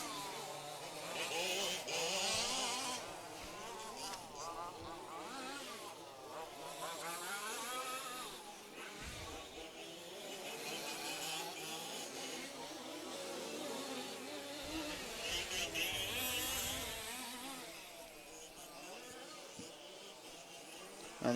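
2WD RC racing cars lapping a track at a European championship main final, their high whining motors rising and fading at a distance beneath continuous race commentary.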